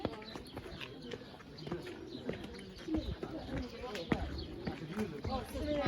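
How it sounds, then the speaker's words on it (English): Pigeons stir and flutter out at the ruins of the Pool of Bethesda, with soft coos and wing noise mixed into steady nearby chatter of visitors talking. "Oh, pigeons flew out"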